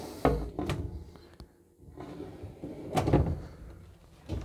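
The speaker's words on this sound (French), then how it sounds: "Il se compose de différents tiroirs et d'un grand placard de rangement" Doors and drawers of a new camper van's kitchen storage thump and slide in several separate knocks and rolling movements, with quieter handling noises between them.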